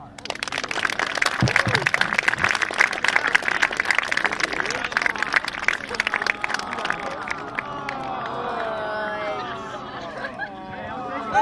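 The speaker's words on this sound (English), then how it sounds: "Well, they had a nice round of applause." An audience at a high school class day ceremony breaks into sustained, loud applause and cheering, the clapping slowly thinning toward the end as voices chatter through the crowd.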